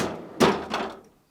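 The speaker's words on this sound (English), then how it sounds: "Start by opening the freezer door." A GE refrigerator's freezer door being pulled open: a soft thunk as the seal releases, followed by a second duller knock as the door swings, short and close.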